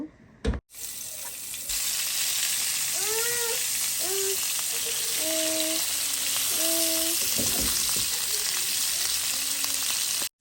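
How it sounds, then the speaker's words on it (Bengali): Hilsa fish frying in a pan gives a bright, steady sizzle close up, interrupted near the start by a clatter, with a few short tonal squeaks and beeps sounding over the hiss. "আর এই সিলে এখন মাছটা ফ্রাই করে নিব"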